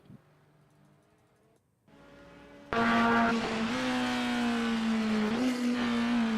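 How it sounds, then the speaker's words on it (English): A race car in a simulated endurance racing series brakes into a corner, the engine note jumping suddenly louder and shifting pitch as it downshifts, with a quieter engine drone beforehand. "Downshifting, I think, coming into the corner"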